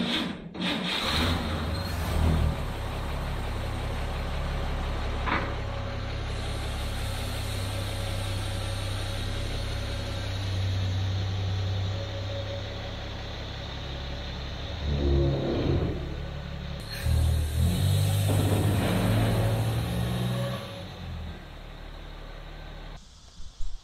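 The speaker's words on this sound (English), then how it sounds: "So we're gonna film, trying to back this thing out of here, and maybe we'll take it for a few spins around the pasture." A 1959 Chevy Apache truck backing out toward a pasture, its engine running with a low, steady rumble that swells into a few revs partway through, near and continuous with some rattling and scraping.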